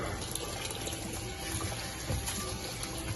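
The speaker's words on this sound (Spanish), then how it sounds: "Ahora vamos a proceder a lavar el arroz." Rice being washed under a running tap gives a steady, close rush of water with gentle splashing and no pauses, and no one speaks.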